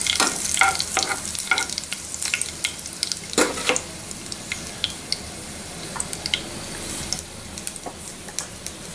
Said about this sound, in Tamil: இப்போ panல ஆயில் ஹீட் ஆயிடுச்சு. இப்போ நம்ம ரெட் சில்லி போட்டுக்கோங்க.